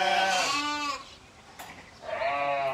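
Sheep bleating at a shearing event, two clear, fairly close wavering bleats, one at the start and another near the end, with a quieter pause between.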